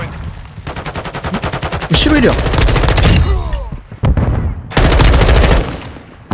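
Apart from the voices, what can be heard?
video game gunfire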